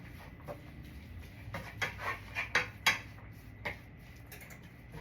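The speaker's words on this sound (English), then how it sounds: "So you'll see me chopping like this a lot because I can't stand big chunks of meat." Knife chopping meat on a board before frying, a run of distinct close taps speeding up in the middle then trailing off, with faint background room noise.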